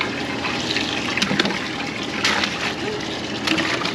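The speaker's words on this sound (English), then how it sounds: "Take these, put them in the water. Splash them." Kohlrabi and other harvested vegetables are dunked and splashed in a tub of water, a continuous churning slosh with louder splashes every second or so, close by.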